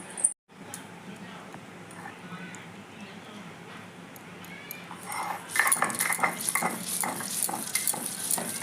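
Soaked red masoor lentils are ground into paste. It starts as a soft, muffled rubbing, then about halfway through turns into louder, busy, gritty scraping strokes close by.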